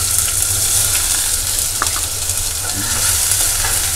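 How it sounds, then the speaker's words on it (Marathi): Onion pieces sizzle in hot oil in a pan. The frying is loud and close with a steady crackling hiss throughout, and nobody speaks. "तेल तापलं आहे. आता त्याच्यावर कांदा घालूया."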